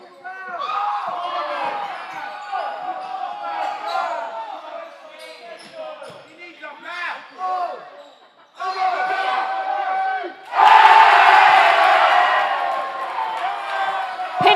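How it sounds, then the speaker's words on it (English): A high school basketball crowd at a Southern Prep versus Wynnbrook game cheers after a layup, starting with steady gym chatter and sneakers, then swelling into loud cheering and whoops that carry on to the end, with commentary voices throughout. "The crowd gets pumped up on those kind of baskets for sure."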